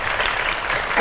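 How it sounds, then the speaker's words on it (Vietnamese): Studio audience at a Vietnamese TV game show breaks into dense, loud applause that fills the whole moment without pause. "Vỗ tay quý vị."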